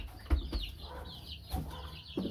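Clucking from backyard chickens, a young butcher-breed hen among them, in a few short bursts with brief pauses, close by and alone with no talk.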